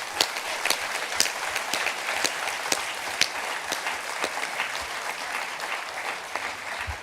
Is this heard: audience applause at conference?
yes